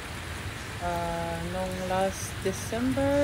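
Steady rain falls in a constant broadband hiss through the whole stretch, with a person talking over it nearby.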